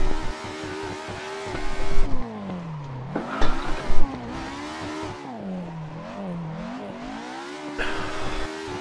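Simulated car in Assetto Corsa sliding through skids, the engine revving and sagging in sweeping pitches while tyres squeal faintly beneath, sustained and close with a few louder surges.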